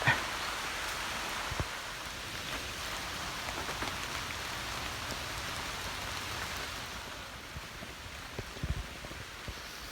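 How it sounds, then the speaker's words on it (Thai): Steady rain falling through a forested mango orchard, a dense, even hiss of drops on leaves with occasional nearer taps, continuous and moderately loud with no voices. "โอ้ฝนตกซะงั้น"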